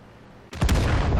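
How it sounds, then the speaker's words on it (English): An artillery shell strikes a tank in World of Tanks: after a moment of low engine hum, a sudden loud blast bursts in up close and keeps roaring for the rest of the short moment. "And the artillery got me."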